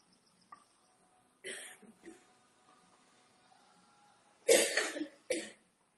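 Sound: cough

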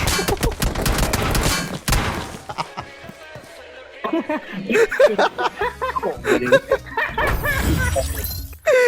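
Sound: gunfire in PUBG Mobile video game

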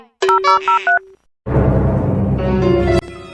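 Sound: telephone number being dialed, keypad tones

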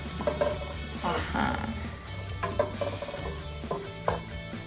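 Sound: garlic sautéing in olive oil, being stirred

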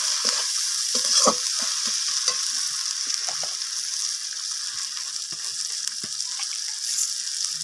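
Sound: stirring and sautéing spices with ginger paste in a pan

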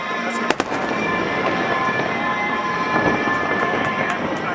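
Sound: fireworks exploding over Lake Union

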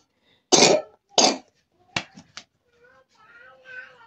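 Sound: child coughing

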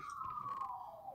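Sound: ambulance siren from a video game

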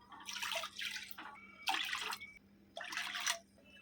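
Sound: water poured into a wide cooking vessel

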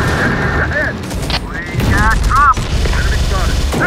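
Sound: enemy gunfire in Terminator: Dark Fate - Defiance video game

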